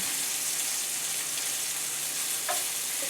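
Thinly sliced apples browning in a hot pan give a steady, even sizzle that runs throughout, with a faint clink or stir near the end and no voices.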